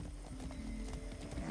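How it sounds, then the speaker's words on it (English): Horse hooves clip-clop in a steady rhythm with a brief whinny, ridden in first person in the video game Far Cry 6, over a continuous low game soundscape. "riding a horse since basic training"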